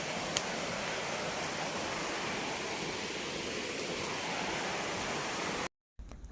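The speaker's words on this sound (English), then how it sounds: "Listen to the sounds of the waterfall thickening as we are approaching to the waterfall site." A waterfall on a nature hike near Nairobi, Kenya, gives a dense, continuous roar of falling water heard steadily from fairly close, with no talk, before a brief cut near the end.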